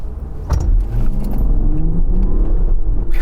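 A new Range Rover launches hard on a flat road, its engine roaring loud and close as it accelerates, the steady low drone swelling and holding throughout.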